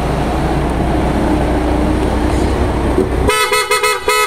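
Car horn on a Mitsubishi Montero, PIEE auto style: a few seconds of steady road rumble, then a loud, close horn blares in a series of short, choppy honks.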